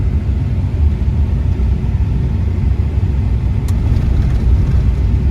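A car drives along a desolate rural road in Wyoming, its steady low rumble of engine and tyres filling the cabin evenly and continuously with no voices.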